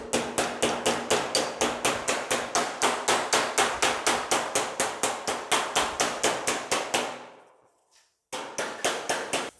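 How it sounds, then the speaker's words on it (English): A hammer strikes the flange of a hand-shaped steel door skin on a 1940 Ford Coupe-inspired build, steady loud ringing blows about three per second, pausing briefly before resuming. "what I'm going to do is just take and hammer it over and it'll snap right into place."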